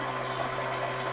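An 80W laser's water chiller runs with a steady pumping hum and faint watery churn, even and continuous throughout, with no voices.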